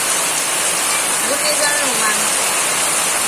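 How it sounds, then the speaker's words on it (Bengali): Heavy rain pours steadily during a cyclone, a dense, constant hiss of water that continues through the whole clip, with a voice briefly heard faintly over it. "আমাদের এখানে প্রচুর বৃষ্টি হচ্ছে"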